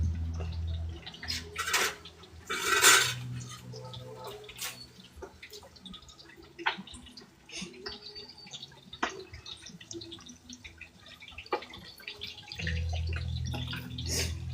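A pan being handled and readied for backyard cooking in the Bronx: scattered metallic clanks and knocks over running water and drips, loud bursts near the start and end, no clear talk.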